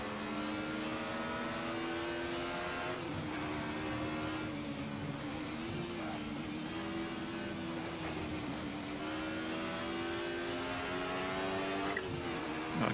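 Racing car engines drone loudly and continuously in Assetto Corsa, with a steady whining tone that shifts slightly as revs change, a Mercedes running just behind, and no voices.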